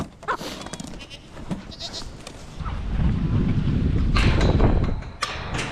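A fluffy goat kid on a snowy livestock farm bleats several times near and loud, with rustling and a rumbling background.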